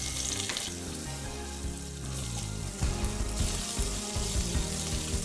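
Cumin seeds fry in hot oil for a vegetable curry, a dense, loud crackling sizzle close by with occasional stirring clatter.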